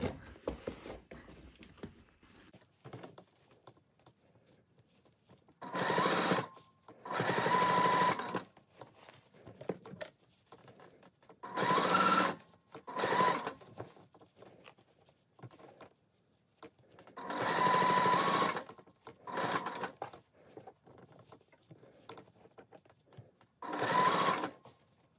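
A sewing machine stitches a floral sundress in six separate runs of steady whirring, each lasting one to two seconds, with quiet pauses between them and a faint rustle of fabric at the start.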